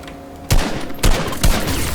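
Rapid gunfire in the video game Fortnite, three loud close bursts of shots about half a second apart over a steady background din.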